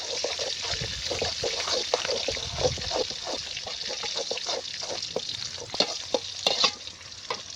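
Onions with dried and green chillies sautéing in a pan for chicken uppu kari, a close steady sizzle punctuated by stirring scrapes and clinks.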